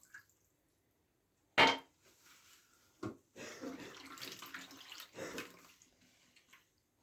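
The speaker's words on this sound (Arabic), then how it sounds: "وهاد الكاس ديال الماء غنشلل به هادي." Water is poured from a glass to rinse something while Moroccan rfissa is being prepared. A sharp knock is followed by a few seconds of close splashing and trickling, then a quieter rush of pouring.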